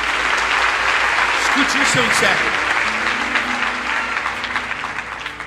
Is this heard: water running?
no